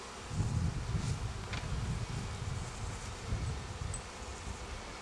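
A swarm of bees being shaken into a hive gives a steady, close buzzing hum, swelling slightly at times amid light rustling.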